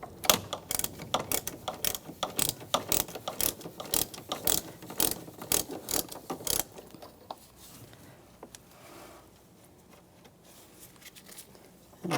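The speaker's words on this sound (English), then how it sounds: "Just take this cover off here using a 13mm socket." A ratchet with a 13mm socket turns a nut on the valve cover of a 2008-2013 BMW 328i xDrive. Rapid, close clicking runs in bursts for several seconds, then gives way to quiet handling noises.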